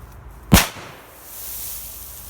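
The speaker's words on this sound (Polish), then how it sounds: "I lecimy jako druga petardka yy, FP3X Achtung" A Polish FP3X Achtung firecracker explodes in sand outdoors: one sharp, loud bang near the start, followed by a soft lingering rumble and faint hiss of debris settling.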